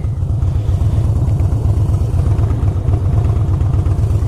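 Harley-Davidson Softail Blackline motorcycle engine idling, a steady low rumble with fast regular pulses that holds loud and even throughout, with no voices over it.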